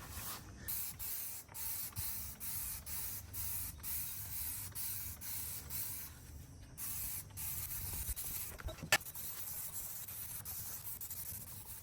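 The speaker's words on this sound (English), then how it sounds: "I have sprayed this entire thing down" Repeated bursts of spray hiss as Dawn Power Wash is sprayed onto a dirty air conditioner unit, rhythmic pulses close by, with a brief clack partway through and no talk.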